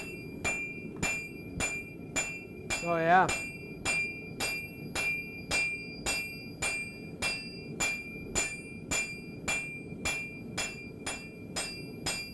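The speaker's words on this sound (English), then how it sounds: "as I hammer on just one of this edge" A hammer rings against the hot edge of a forged knife blade, sharp metallic strikes falling in an even rhythm roughly twice a second, close and bright; a voice briefly speaks partway through.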